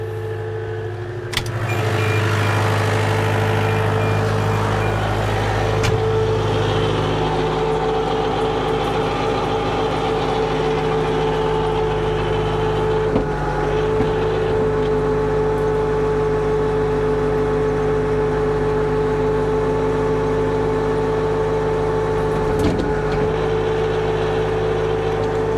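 Diesel engine running steadily at about 424 RPM, driving a PTO, with a constant low throbbing hum and mechanical whine, close and continuous throughout with no talk.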